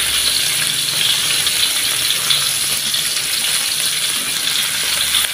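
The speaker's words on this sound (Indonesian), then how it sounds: "Kita tumis sampai harum." Steady, loud sizzling fills the whole stretch as spice paste fries in a pan with bay leaves and lemongrass, a continuous hiss with faint stirring and no speech.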